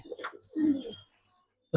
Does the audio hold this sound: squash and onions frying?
no